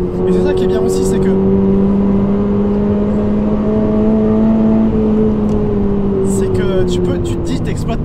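A 2022 Toyota GR86 sports car drives along with a steady engine drone, its pitch slowly rising then easing under cabin road noise, while people talk over it at the start and end.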